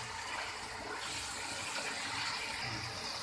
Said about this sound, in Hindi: पानी दे के भी फ्राई कर रही हूँ।